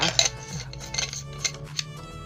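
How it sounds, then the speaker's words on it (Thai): Battery cover on an XM2000 wireless microphone being pressed shut, a few small sharp plastic clicks and taps against a quiet background with a low hum. "กดปิดฝา"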